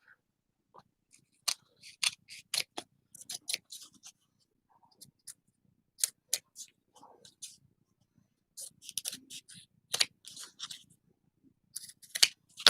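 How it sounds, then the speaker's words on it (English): Scissors trimming paper for homemade tickets, a series of short crisp snips in irregular bursts with pauses between, close and clear with no talking. "And I'm just going to trim it off."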